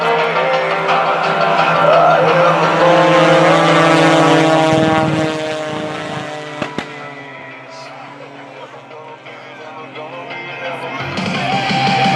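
Patty Wagstaff's propeller-driven aerobatic airplane at the NAS Jacksonville airshow, its engine roaring loud and near, then fading and shifting pitch as it maneuvers away before building again, with a brief announcer voice over it.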